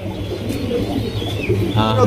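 Pigeons at a pigeon farm, many sitting on eggs or chicks, give soft low cooing calls under a voice, with a brief higher bird note near the end.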